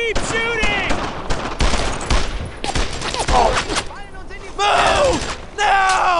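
Heavy gunfire in Brothers in Arms: Earned in Blood, loud bursts of machine-gun and rifle fire with thuds, mixed with shouting voices throughout the battle.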